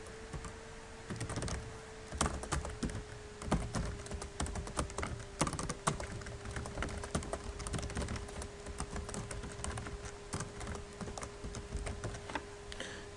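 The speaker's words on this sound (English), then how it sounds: "Type it again." Steady typing on a computer keyboard, rapid irregular key clicks close up over a faint constant electrical hum, continuing throughout with no talking.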